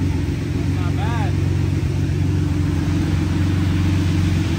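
A Nissan 370Z making over 1000 wheel horsepower with velocity stacks roars steadily on a dyno during a nitrous pull, loud and sustained at high revs with a brief voice over it.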